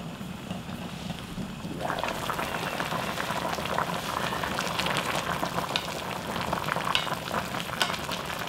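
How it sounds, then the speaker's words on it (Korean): Pork simmering at a rolling boil in a pot on the stove, a steady close bubbling and gurgling that swells louder after the first two seconds and continues without pause. "이렇게 팔팔 끓잖아?"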